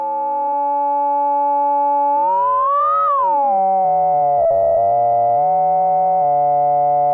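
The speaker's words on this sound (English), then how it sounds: "resonance will control the volume of our second sine wave" Moog Matriarch synthesizer with filter feedback producing sustained sine tones and strong filter resonance. The pitch sweeps upward and back down, then settles into a steady, buzzier tone, loud and alone with no talking.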